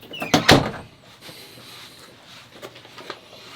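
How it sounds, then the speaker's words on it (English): A door at a thrift store being handled and locked, heard as a couple of loud clunks and rattles up front followed by quieter scrapes and clicks. "You want me to lock the door?"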